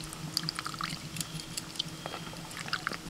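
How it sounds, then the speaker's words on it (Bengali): Palm fruit pulp is rinsed in water, giving quiet splashing and trickling with small drips and handling noises throughout at close range, without talk. "আমি ভালো করে তাল শাঁসটাকে ধুয়ে নিচ্ছি"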